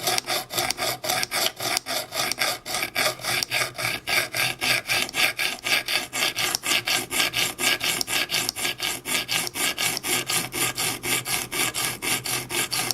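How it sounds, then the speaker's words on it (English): A knife edge is drawn across a sharpening stone in rapid, even strokes, a close rasping scrape repeating about three times per second and continuing steadily, with no voices. "I'm not paying too much attention at sort of my consistent strokes with this stone right now"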